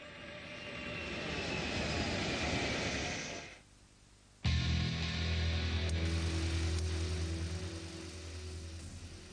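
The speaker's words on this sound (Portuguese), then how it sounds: "do rebento da Guerra Fria de Kelly Johnson, o avião espião U-2." Lockheed U-2 spy plane engine roaring loudly and steadily, broken by a brief silent gap, then resuming with a deep heavy drone.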